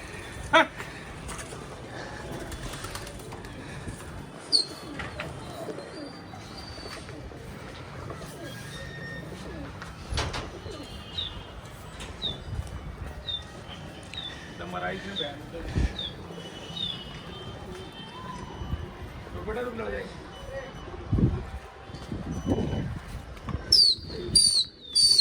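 Flying pigeons just let loose from their loft coo and chirp over roughly twenty-five seconds, with intermittent wing flaps, while voices talk over and around the birds.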